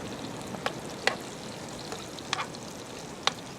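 Potato pancakes frying in a pan, a steady soft sizzle with a few sharp pops and crackles, close by and no talking.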